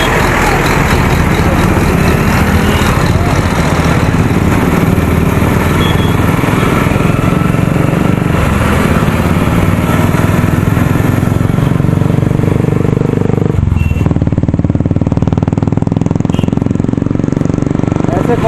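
Motorbikes pass along a busy street in traffic, engines droning and buzzing loudly and continuously at close range, with voices mixed into the steady roadside din.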